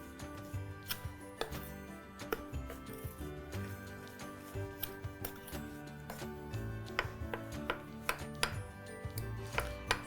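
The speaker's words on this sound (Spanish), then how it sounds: "Voy a mezclar con una cuchara." A spoon scrapes and taps against a bowl while flour, sugar and yeast are stirred together, giving a quiet, close series of irregular clinks and knocks over a faint background hum.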